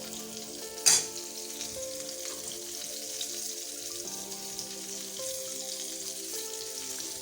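A chicken zinger patty fries in a pan of oil, giving a steady, even sizzle that stays close and unbroken, with one sharp clink near the start and a faint background hum.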